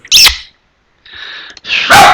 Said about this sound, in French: Elle aboie comme un Rottweiler.